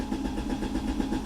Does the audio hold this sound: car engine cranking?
yes